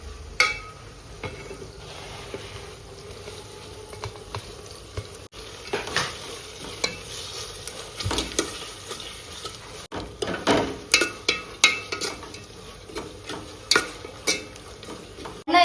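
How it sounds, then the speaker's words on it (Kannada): Cinnamon and cloves for biryani fry in hot oil, a steady low sizzle that keeps going as a utensil stirs and scrapes the pan in irregular clicks and knocks. Nobody speaks. "ಈಗ ಎಲ್ಲ ಮಸಾಲಾನು ಚೆನ್ನಾಗಿ ಆಯಿಲ್ ಅಲ್ಲಿ ಫ್ರೈ ಆಗಿದೆ"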